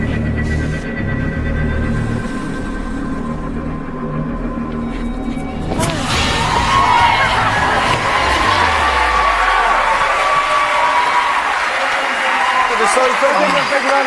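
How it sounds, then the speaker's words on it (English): Studio audience bursting into applause and cheering at a televised mentalism show, a loud sustained wash of clapping and crowd noise that swells suddenly and holds. "So give him a big round of applause."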